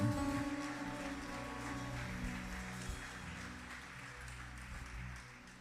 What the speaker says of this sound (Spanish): Aplauda la gloria del Señor.